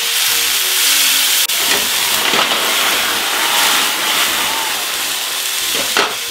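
Cognac poured over seared cheesesteak beef on a hot griddle and flambéed, a loud, continuous close hiss and sizzle with a few sharper crackles and flares over about six seconds.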